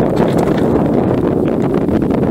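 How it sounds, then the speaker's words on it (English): Steady wind buffets the microphone outdoors at a shooting range during a .223 ammunition accuracy test, a loud, continuous low roar with no talk. "As you can see, it's kind of windy out here"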